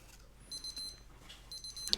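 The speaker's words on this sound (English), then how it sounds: "it's going to beep again to remind me to check my pulse" A vintage Casio JP-100W digital watch sounds its pulse-check reminder: two short, faint runs of high electronic beeps about a second apart in a quiet room.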